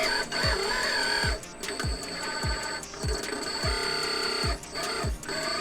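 Outrunner brushless motor of a Huina Kabolite 336GC hydraulic RC excavator running, giving a loud, close, chunky whir that pulses rhythmically with repeated falling-pitch sweeps.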